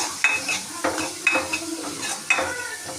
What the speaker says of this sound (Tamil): வெங்காயம், அந்த பச்சை மிளகாய் கீறி வச்சுருக்கேன், அதை மட்டும் போட்டு நல்லா வதக்கிங்க.